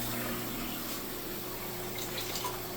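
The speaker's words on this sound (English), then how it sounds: "I'm going to wash up them plate here now." Warm water running steadily over plates being washed up in a home kitchen, a constant close hiss with faint clinks and no talking.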